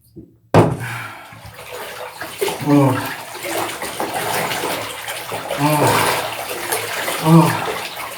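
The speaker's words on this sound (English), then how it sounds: "And now I take this bath with vigor." Bath water sloshes and splashes in a filled tub as someone moves about in it, in repeated swishing surges close by, with a voice speaking over the water.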